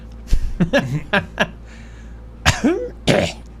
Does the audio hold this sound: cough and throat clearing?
yes